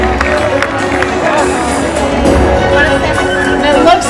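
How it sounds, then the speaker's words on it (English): Crowd cheering and applauding at an orca show at SeaWorld San Diego, a continuous wash of voices and claps with scattered whoops, mixed with talk over the noise. "Keep cheering for them, guys."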